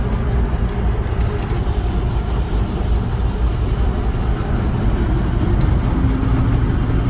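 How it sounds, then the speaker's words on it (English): A 1957 Dodge Sweptside D100 pickup truck drives along, its engine and road noise forming a steady, loud, continuous rumble heard from inside the cab with no talking. "Overall, this is a very nice running and driving pickup truck."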